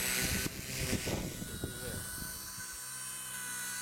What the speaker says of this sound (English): This heli certainly does 3D.